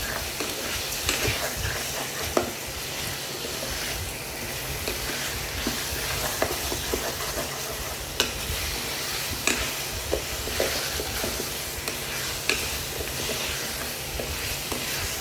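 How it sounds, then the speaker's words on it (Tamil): Mango pieces stirred into a sweet curry frying in a pan, a steady sizzle with soft scraping clicks of the spoon at irregular intervals, close and alone. "இது கூட கட் பண்ணி வச்சுருக்க மேங்கோவெல்லாம் போட்டுக்கலாம். போட்டுட்டு நல்லா மிக்ஸ் பண்ணுவோம்."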